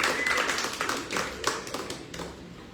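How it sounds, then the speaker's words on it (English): Audience at a poetry and open-mic night applauding themselves; a short, smallish round of clapping that fades quickly from a loud start to scattered claps. "Can we get a round of applause for yourselves?"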